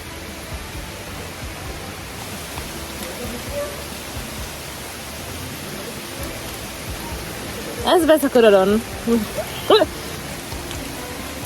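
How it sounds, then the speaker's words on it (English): Steady rain falls in Jamaica as a dense, even hiss throughout, and someone speaks briefly near the end over the downpour. "It seems like every time we reach a place, it starts raining."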